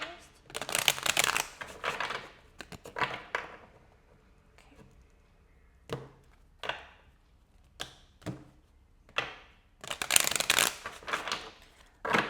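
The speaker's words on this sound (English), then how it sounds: "let me shuffle it first" Several bursts of a deck of cards being shuffled, riffled and bridged in quick rushes, with quieter pauses and a few soft taps between them, close to the listener.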